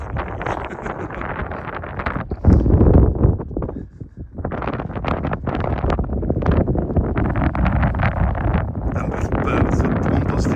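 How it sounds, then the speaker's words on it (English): Gusty wind buffets the microphone on the exposed gritstone edge of Stanage Edge in the Peak District, roaring in uneven surges with a strong blast partway through. "I noticed it seems like the wind's picking up again."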